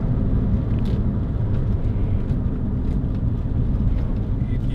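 A 2006 Toyota MR2 1.8 VVT-i roadster drives along, its steady low engine and road rumble filling the cabin at a constant level, with faint wind noise and brief higher clicks over the drone.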